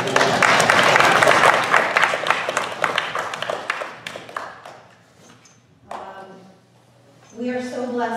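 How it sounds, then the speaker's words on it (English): Congregation applauds during an Erev Shabbat service, a dense burst of clapping that thins and fades over several seconds before a voice begins speaking alone. "You can applaud."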